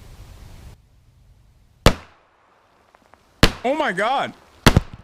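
Shots from a Colt Government Model .45 ACP pistol loaded with 230-grain full metal jacket round-nose rounds, fired at a car trunk: three sharp, loud isolated reports spaced apart, with an excited voice exclaiming between them.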